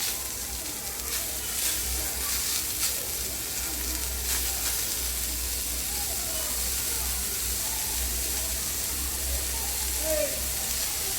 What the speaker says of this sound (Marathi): कांदा आपण आता ह्याच्यामध्ये तेल टाकून भाजून घेणार आहोत